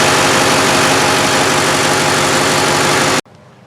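A Duramax diesel truck engine idles while warming up, a loud, steady, close clatter with even low throb that cuts off abruptly near the end, leaving quiet.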